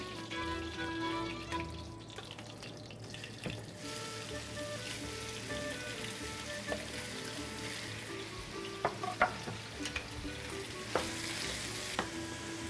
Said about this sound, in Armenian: միս տապակելու ժամանակ ջրային մաս պիտի չարտազատվի։